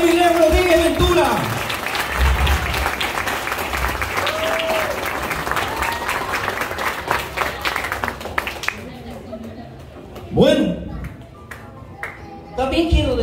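Loud, sustained crowd applause at a quinceañera celebration for the mother and Miguel Rodríguez Ventura, fading after several seconds into scattered claps, a few shouts and a short voice burst.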